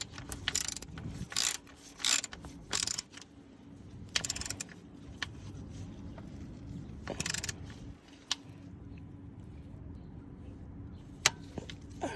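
Ratchet tightening bolts during an engine rebuild of an Infiniti Q50 3.0t, heard as several short bursts of rapid clicking separated by pauses, with quieter isolated clicks later on.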